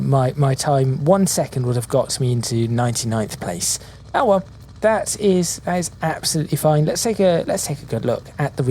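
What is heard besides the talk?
No distinct noise like a dog, phone or traffic.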